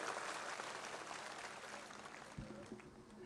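A rally crowd at a Sharad Pawar meeting in Parola claps in a dense, continuous wash of applause that slowly tapers off, heard from a distance.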